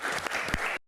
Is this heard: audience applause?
yes